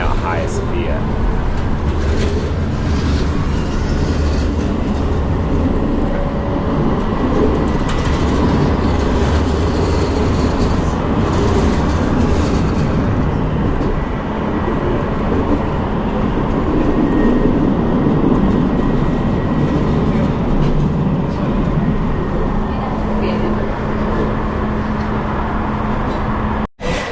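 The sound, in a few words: train ride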